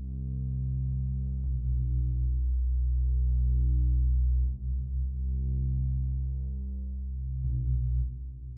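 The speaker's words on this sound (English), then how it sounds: "At the end, we have this sub bass. This sits under the space choir thing." A deep, steady synth sub-bass sine tone drones continuously, with slight swells and a brief dip partway through, alone with no voices.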